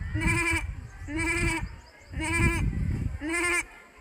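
A person imitates a goat bleating: four drawn-out, nasal bleats in a steady rhythm, loud and close.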